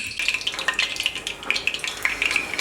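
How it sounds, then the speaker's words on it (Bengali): A single garlic clove sizzles in hot mustard oil in a pan, a steady bright crackle with small popping bursts, close and fairly quiet, without talk. "এর মধ্যে প্রথমে এক কোয়া রসুন দিয়ে দেখলাম তেলটা গরম হয়েছে কিনা"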